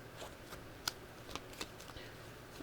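Tarot cards being shuffled by hand, with a few soft riffling bursts and light slaps spaced through a quiet, close moment.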